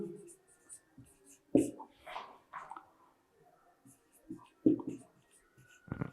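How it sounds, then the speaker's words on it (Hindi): Handwriting on a board or page gives scattered scratchy strokes and taps, faint and intermittent beneath a voice speaking. "एक और सेंटेंस में लिखता हूं इसमें, यहां पर लिखते हैं जैसे राहुल"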